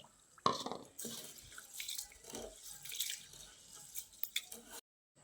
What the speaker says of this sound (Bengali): এবার আমি এই চালটাকে পরিষ্কার জল দিয়ে 2-3 বার ধুয়ে নিচ্ছি